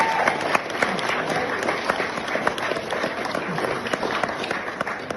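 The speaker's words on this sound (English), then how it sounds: "I wonder if you could give them applause." Wedding guests applaud in a reception venue, a steady wash of many hands clapping close by for several seconds without a break.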